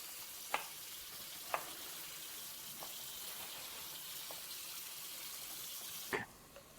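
Tap water runs in a steady, soft hiss as produce is washed under it, with a few faint knocks and clatters, before the flow stops abruptly near the end.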